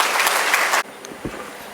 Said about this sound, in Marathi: टाळ्या अशा मरेलवाणी वाजवायच्या नाही